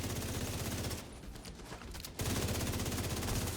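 Sustained automatic gunfire in Destiny 2 aimed at a turret during a master-difficulty mission, a steady fast rattle that drops briefly in the middle and then resumes just as loud.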